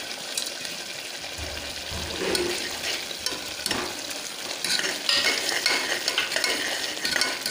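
Sundakkai (turkey berries) and garlic frying in hot oil for a tamarind-based vathal kuzhambu, a dense continuous sizzle with occasional stirring scrapes, swelling slightly louder toward the end, no voices.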